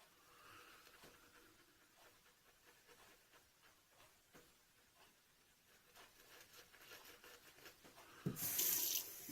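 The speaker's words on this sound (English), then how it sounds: "A little bit of water here." Tap water runs into a sink during a shaving routine, a soft steady trickle that swells into a louder, closer gush near the end.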